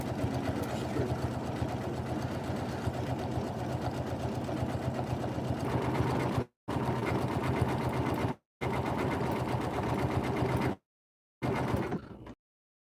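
A Janome M17 sewing machine stitches woven fabric in steady, rapid bursts of close, loud whirring and needle clatter, stopping briefly a few times between runs.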